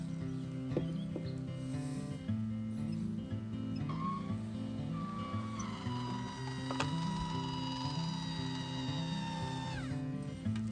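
A truck shell roof vent fan opens from its closed position with a continuous close mechanical whir and hum whose pitch shifts and slides, with no talking over it.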